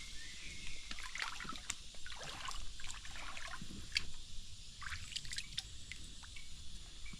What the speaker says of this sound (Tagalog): Ito pong ilog na ito mga kainsan.